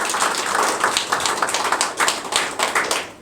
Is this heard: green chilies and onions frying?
no